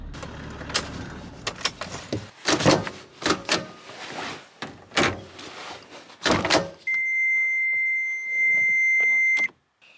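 A GPS unit powering up after being clicked onto its mount: several clicks and clunks of handling, then a sustained electronic tone that starts, stops and sounds again briefly.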